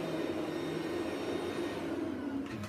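A Rainbow vacuum cleaner with its power head attached runs in a loud, steady whine and roar, close and continuous throughout, tapering slightly at the very end with no talking over it.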